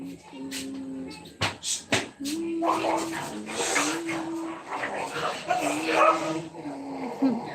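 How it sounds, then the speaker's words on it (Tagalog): Dogs outside yelping and whining in a scuffle, with sharp barks early on and continuous growling commotion, while a person talks over it nearby. "Nag-away-away na ang mga aso."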